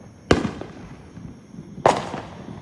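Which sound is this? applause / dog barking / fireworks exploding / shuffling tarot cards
fireworks exploding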